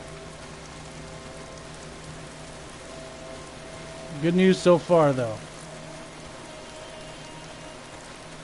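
Steady rain patters in the Days Gone video game, a soft continuous wash that continues under a brief burst of speech midway.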